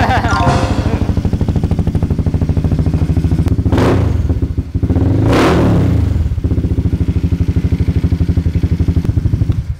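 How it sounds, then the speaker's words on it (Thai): A Honda Forza 350 scooter's exhaust revs up in two loud bursts over a steady close idle rumble, while a voice talks over the engine. "ทำเสียงท่อให้ดังหน่อยครับให้ฟังหน่อยครับบึ้นบึ้น"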